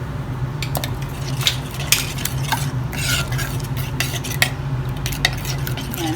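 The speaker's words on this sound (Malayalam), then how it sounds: "എന്നിട്ടൊന്ന് മിക്സ് ചെയ്ത് കൊടുക്കുക." Beaten eggs being whisked with salt and crushed black pepper for a Spanish potato omelette, a steady run of light scraping and clinking strokes against the bowl over a low kitchen hum.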